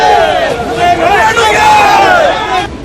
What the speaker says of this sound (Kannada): ಸುಮಲತಾ ಬಂದ ದಾರಿಯುದ್ದಕ್ಕೂ ಅವರ ಅಭಿಮಾನಿಗಳು ಜೈಕಾರ ಹಾಕಿ